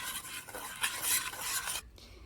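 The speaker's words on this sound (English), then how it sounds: "Stir well to combine." A spoon scrapes and swirls through chocolate sauce with vanilla extract and salt in a pot, giving a close, rasping stir with faint metal contact that stops abruptly near the end, with no voices.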